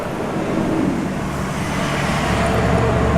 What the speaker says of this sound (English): here's a loud truck.